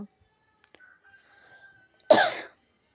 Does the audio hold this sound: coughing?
yes